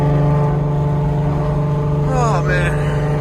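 A Nissan G37 idles steadily after an engine swap with its exhaust problem fixed, a loud constant drone near at hand, while a brief rising and falling whine sweeps across it near the end.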